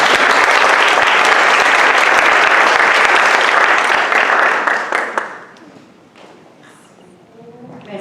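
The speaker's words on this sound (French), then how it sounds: "S'il vous plaît, une bonne belle applaudissement pour Mme Julia Wellens." Strong audience applause at a school launch event, dense and loud for about five seconds before fading into scattered claps and quiet room murmur.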